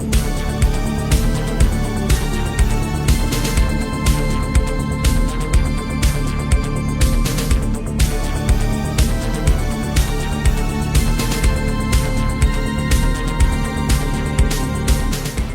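Hell March, the theme from the 1996 Command & Conquer: Red Alert video game, plays its second half: loud, dense electronic rock with a driving, steady pounding beat that stays at full volume throughout, with no voices.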